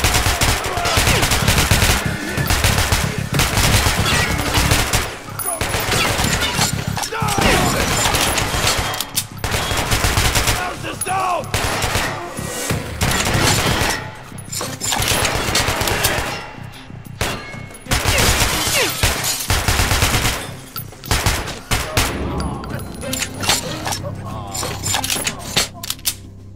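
Sustained gunfire from the Metro: Last Light shooter game, dense and loud, with rapid bursts and volleys continuing almost without pause, mixed with game voices and combat noise.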